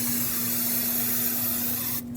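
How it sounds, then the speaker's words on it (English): Brake parts cleaner hisses from an aerosol can in one steady, loud spray onto a brake rotor of a 2006-2015 Lexus IS250 during a front brake job, cutting off abruptly at the end. "I can clean off this surface with some brake parts cleaner"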